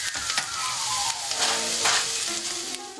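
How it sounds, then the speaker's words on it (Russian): Steady sizzling and crackling of diced bell pepper and cauliflower frying together in a hot pan, with occasional stirring scrapes, close and fairly loud throughout. "добавляем в сковороду и обжариваем все вместе несколько минут"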